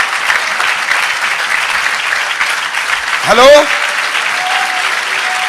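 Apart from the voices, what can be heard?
applause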